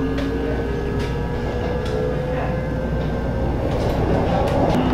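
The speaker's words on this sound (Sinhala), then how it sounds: "මේක යෝජු දක්වා යන ට්‍රේන් එකක්." Commuter train running toward Yeoju, Korea, heard from inside the car: a steady loud rumble of wheels and motor fills the whole stretch, with faint clicks and a thin electrical whine over it.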